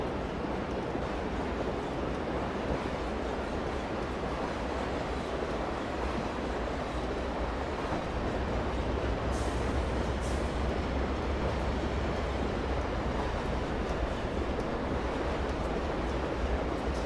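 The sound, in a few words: train's rear locomotives passing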